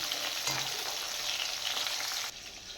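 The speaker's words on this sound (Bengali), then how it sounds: "বোয়াল মাছ ভাজা হতে হতে" Boal catfish frying in a pan gives a steady, loud, close sizzle that crackles continuously, then drops slightly quieter near the end, with no voices.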